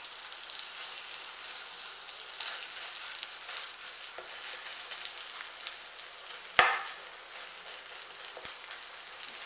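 A meat patty fries in lard in a pan, following a 1960s roast patty recipe, giving a steady close broadband sizzle throughout with one sharp clatter midway and a faint tap near the end; no one speaks.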